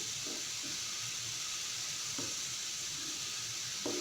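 A pan of water with orange peels boiling on the stove, giving a steady, fairly loud hiss and simmer with a few soft pops and bubbling bursts scattered throughout, no voices.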